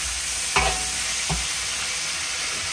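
Lamb brisket hotpot fries in a wok under a loud, constant hiss of sizzling oil, with two brief scraping thuds as the wok is tossed or stirred.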